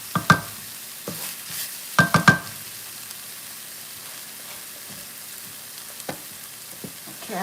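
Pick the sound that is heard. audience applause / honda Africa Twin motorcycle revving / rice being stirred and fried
rice being stirred and fried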